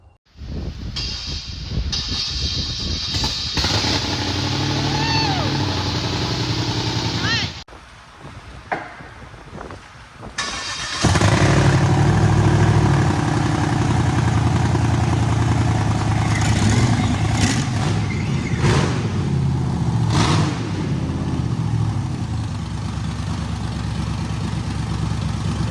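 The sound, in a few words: car engine with LS V8 revving and idling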